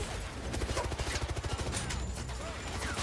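Rapid gunfire bursts in the video game 007: First Light, a dense rattling volley of game shots heard loud and close, with a brief mutter of talk underneath.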